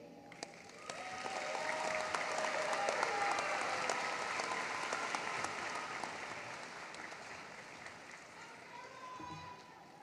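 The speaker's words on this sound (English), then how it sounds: "Let's give Sarah another round of applause." Applause from a crowd at a high school graduation ceremony after a speech, swelling to a steady roar of clapping and then gradually fading, with faint voices mixed in.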